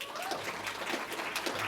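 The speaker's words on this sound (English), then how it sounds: "Warm round of applause." Brief applause from an audience at a public talk, a steady wash of clapping at moderate level for under two seconds.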